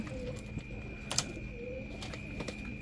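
Paired Pakistani teddy pigeon chicks give soft, low coos at close range, a few brief calls spread over a quiet indoor background with faint clicks.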